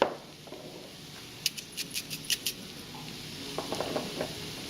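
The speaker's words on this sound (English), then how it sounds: "we're just going to go ahead and start to saute this just for about 2 minutes" Mushrooms sautéing in a pan with salt, pepper and chili flakes for turkey tetrazzini, heard as a faint, steady sizzle with a series of light clinking stirs and scrapes of a utensil against the pan.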